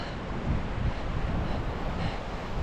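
Wind gusting across a beach in Casablanca, buffeting the microphone with a low, rumbling roar and a steady broadband hiss, loud and continuous throughout.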